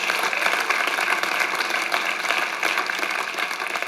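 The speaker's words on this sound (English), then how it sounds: "If I could ask for one big round of applause to everybody who's helped us fund this research." Sustained applause from a conference audience in a large hall, a continuous bright wash of clapping at steady moderate loudness without a break.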